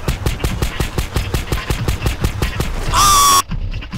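Rapid automatic gunfire in GTA San Andreas, a fast regular stream of shots for about three seconds, ending in a loud high tone before cutting off.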